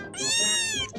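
A cat gives a single drawn-out meow, loud and close, lasting about a second, with faint household sounds around it.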